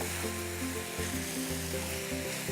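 Fried rice with bacon, lapchang and oyster sauce sizzles steadily in a pan while being stirred, a soft continuous crackle and hiss under a low background hum, with no talking.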